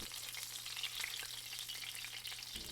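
Duck breasts sizzle and spit steadily in a hot pan as their fat renders, a close crackling fry with faint popping and no voices.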